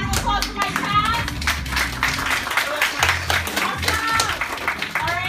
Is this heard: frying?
no